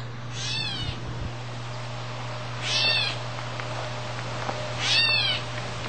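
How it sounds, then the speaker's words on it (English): A catbird gives three nasal, cat-like mewing calls, roughly two seconds apart, over a steady low hum. "you hear the catbird, who harasses me all day long to feed him"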